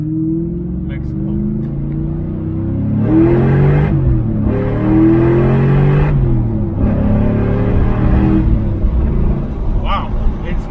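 A 2000 Ford Mustang Cobra R with a 6-speed manual pulls hard through short gears. The engine note climbs, drops at each shift, then climbs again, loud and close, with a voice talking over it.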